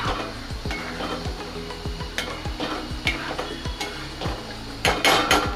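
A spoon stirs paneer gravy with crushed kasuri methi in a pan, its repeated scraping and clinking strokes close and rhythmic over a soft sizzle, with a few sharper metallic knocks near the end.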